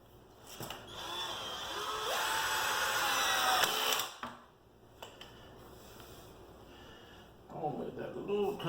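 A Hyper Tough 18-volt cordless drill drives screws in a steady whine for a couple of seconds, its pitch rising as it runs. A quieter stretch follows, then some handling noise near the end.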